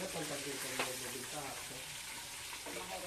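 Chicken fries in hot oil with a dense, steady crackling sizzle, while people talk faintly underneath.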